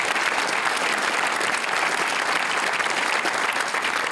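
A studio audience at the Q&A panel show applauds the panel in a dense, even burst of clapping that fills the room for a few seconds without pause.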